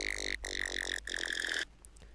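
A Serum synth bass layer built from a harmonic wavetable with FM from oscillator B plays buzzy, bright sustained tones in short stuttering bursts over a steady low hum, quiet and alone.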